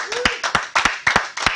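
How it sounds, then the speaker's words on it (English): A brief round of clapping and cheering for a salesperson at a workplace leadership gathering, with several sharp, irregular claps from a small group over a whoop and voices. "Give him a round of applause."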